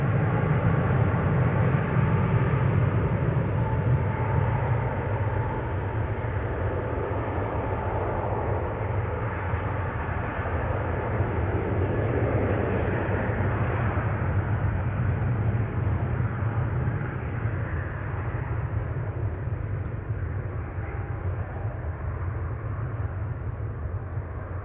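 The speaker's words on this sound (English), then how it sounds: "the departure of Singapore Airlines flight 323 to Singapore. A350-900. Turning and burning. Rolling start." A Singapore Airlines A350-900 takes off from Amsterdam Schiphol on a rolling start, its engines a broad, distant roar that holds steady and slowly fades over the run.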